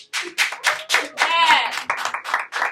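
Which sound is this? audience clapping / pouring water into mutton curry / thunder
audience clapping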